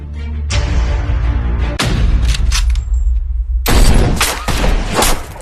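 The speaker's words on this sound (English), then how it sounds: "somebody is shooting at us!" Gunshots are fired at people outdoors, several loud, booming blasts with sharp attacks and rumbling tails, then a denser burst of overlapping shots, as in a dramatized shooting scene.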